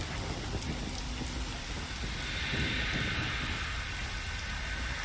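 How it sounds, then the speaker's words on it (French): Steady rain in the jungle setting of the video game Metal Gear Solid 3: Snake Eater, a constant dense hiss of falling drops with a faint low rumble underneath, no voices. "Il pleut."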